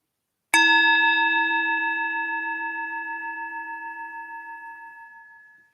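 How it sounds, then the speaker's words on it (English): A single meditation bell is struck once and rings out alone with a clear, bright tone that fades slowly and evenly over about five seconds. "When you hear the next bell, drawing a few deep breaths in"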